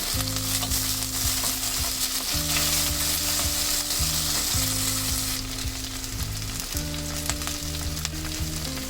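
Green chillies and onions sautéing in a hot pan with a pinch of asafoetida, a loud, steady crackling sizzle throughout, under a background of steady humming tones, with no speech.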